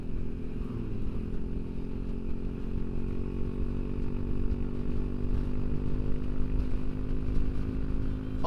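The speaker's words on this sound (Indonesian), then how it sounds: "sambil gua membawa motor" A motorcycle rides along a winding road between cliffs and valleys, its engine a steady, close, droning hum that holds constant throughout.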